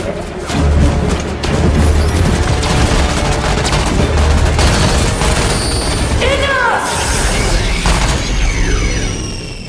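Video game battle with rapid gunfire, booming explosions and crashing debris layered densely throughout, loud and close, with sweeping energy-weapon tones and a voice speaking amid the chaos.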